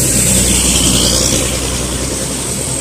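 The Bon Jovi bus, a black Luragung coach, pulls away with a loud, sustained engine roar that holds steady and close without any speech over it.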